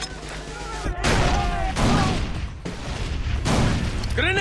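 Grenades explode in the co-op shooter game Far Cry 3, with several heavy booming bursts in a row and player voices shouting over them.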